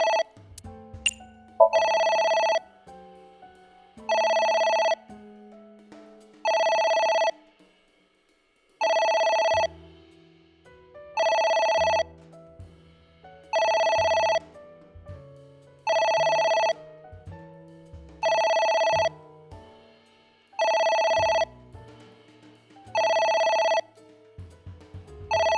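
A telephone rings in the video game AI: The Somnium Files, sounding as ten evenly spaced electronic ring bursts over quiet background music with a short pause partway through.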